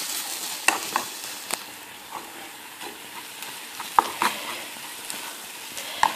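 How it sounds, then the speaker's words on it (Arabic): Béchamel sauce stirred in a pan, a soft continuous scraping and swishing with a faint sizzle, punctuated by light clicks of the spoon against the pan, close and steady with no voices. "نقعدوا غير نخلطوا هكذا. هكذا نخلطوا مليح."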